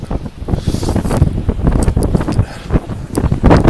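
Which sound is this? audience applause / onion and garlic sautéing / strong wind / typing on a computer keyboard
strong wind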